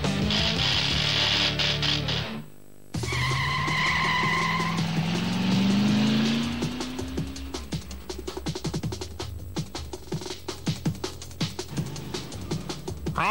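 Loud arcade racing car from a Sega Saturn game, with an engine revving hard and tires squealing through a long skid, the noise sliding and settling into a busy, rumbling drive with no talk.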